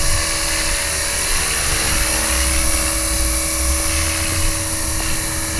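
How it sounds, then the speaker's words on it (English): An EXI450 radio-controlled model helicopter flying nearby, its rotor and motor giving off a loud, steady high-pitched whine with a constant drone beneath, and no talking. "The poor old neighbours have to put up with my helicopters coming and going all day, every day."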